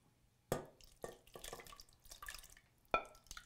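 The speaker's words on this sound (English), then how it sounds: "So we're gonna pour those in." Thick, wet plops and splatters as crushed tomatoes are poured into a pan, a few distinct sloppy impacts close by, quiet otherwise.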